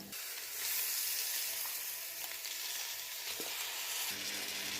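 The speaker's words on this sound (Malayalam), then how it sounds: "കഴുകി വെച്ച ചിക്കൻ ഇത് നമ്മൾ എന്ത് ചെയ്യുക, ഈ മസാലയിലേക്ക് ഇട്ട് കൊടുക്കാം" Washed chicken pieces dropped into hot frying masala sizzle steadily and loudly, a continuous close hiss with a few light stirring scrapes and no voices.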